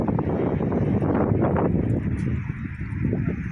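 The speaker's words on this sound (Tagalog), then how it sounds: "Mahangin. Sobrang hangin." Steady, loud wind roaring and buffeting outdoors at night on the Abu Dhabi Corniche, a continuous rushing noise with no voices, easing slightly toward the end.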